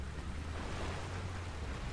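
Steady rushing water noise as a character moves through water in BioShock 2 Remastered, an even broadband wash with low rumble, continuous and fairly close, with no talking.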